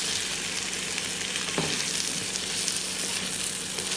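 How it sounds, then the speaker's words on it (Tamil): Tomatoes sauté in hot oil in a pan for a mackerel fish curry, a steady close sizzle with a brief stirring clatter partway through. "தக்காளி பழத்தை போட்டுட்டு நல்லா வதக்கிட்டு கத்திரிக்காயை போட்டுக்கணும்"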